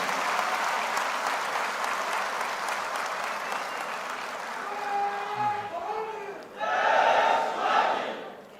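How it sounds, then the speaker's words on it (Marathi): Large crowd at a political rally welcoming Eknath Shinde with sustained applause, cheers and shouts, a voice over a PA carrying through the middle before the clapping swells loudly again. "प्रचंड टाळ्या वाजवून आपण त्याचं या ठिकाणी स्वागत करूया"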